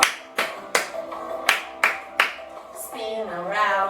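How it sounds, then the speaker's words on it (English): Children clap their hands together in a steady beat of about eight sharp, close claps, after which a sung voice carries on. "clap your hands"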